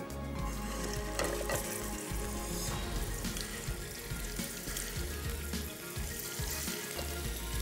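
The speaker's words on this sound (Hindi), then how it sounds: "ये कोफ्ते भी सारे हम करते हैं फ्राई।" Koftas fry steadily in hot oil in a pan, a dense, continuous crackling sizzle close up, with scattered pops and occasional stirring clinks, and no voices.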